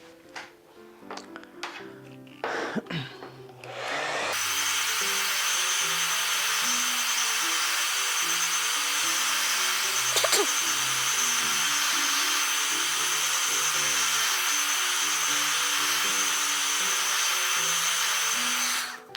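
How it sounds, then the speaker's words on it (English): A hair dryer blowing over a mixed media Christmas card, a few short scrapes and taps before the dryer switches on and runs as a loud, steady close whoosh for the rest of the clip. "I'm going to blow dry that again."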